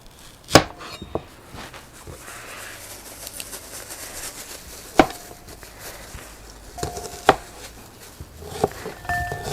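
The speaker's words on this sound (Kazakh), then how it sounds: "Пиязын тураймыз." An onion is chopped with a knife on a board while preparing stuffed sheep's stomach in village style. A handful of sharp, isolated chops sound close against quiet background noise.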